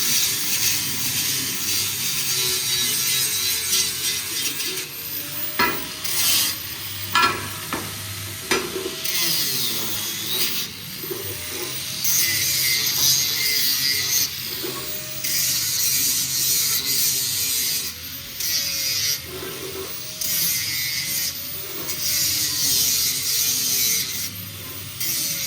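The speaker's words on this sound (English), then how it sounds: "I'm making sure I'm grinding nice and flat" An angle grinder works a welded metal belt guard flat, a continuous harsh abrasive rasp that rises and dips as the disc is pressed and moved across the metal, with the motor's whine shifting in pitch throughout.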